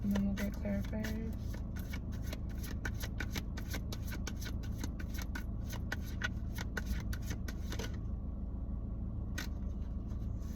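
Tarot cards are shuffled by hand in quick, crisp riffles and flicks that run steadily at close range, with a quieter pause near the end.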